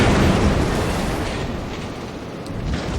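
A shell hitting a South Carolina battleship in World of Warships lands as a loud, sustained rumbling explosion that fills the whole moment and slowly fades, with no voices over it.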